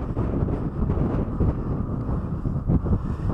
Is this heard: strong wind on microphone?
yes